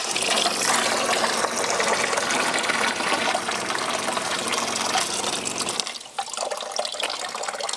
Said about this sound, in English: Filling the hose, running all the water out,